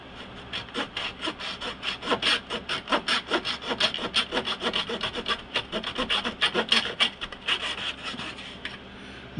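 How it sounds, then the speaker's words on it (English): A miter saw cuts through a small piece of wood for a wooden model ship, the Royal Sun, in a fast, even series of back-and-forth rasping strokes, close and clear, with no talking. "with the miter saw, come down on that mark I made with the X-Acto knife"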